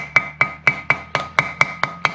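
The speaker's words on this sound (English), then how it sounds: "use a soft face hammer and just" A soft face hammer taps an axle hub part into place on a 1986 Ford Ranger 4x4 diesel, striking ten times at an even, quick pace, each blow close, crisp and ringing briefly.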